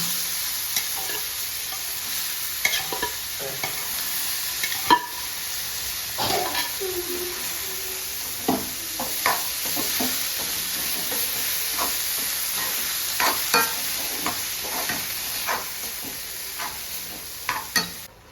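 Banana stem and horse gram sizzle steadily in a pan while a utensil scrapes and stirs them in irregular strokes, close and continuous, with no voices.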